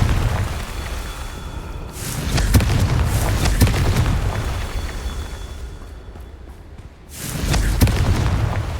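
Confringo fire spell from the game Hogwarts Legacy, cast in a Merlin trial: a loud booming blast near the start, rumbling on for several seconds before a second heavy explosion hits near the end.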